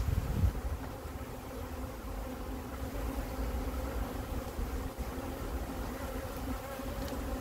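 Steady low hum of many honeybees, mostly nurse bees, buzzing close by around a hive, continuous and droning with slight swells in loudness.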